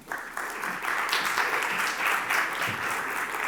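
An audience at an EAGx Cambridge conference talk applauds, a dense steady wash of clapping that rises quickly and holds evenly throughout, moderately loud with no voices.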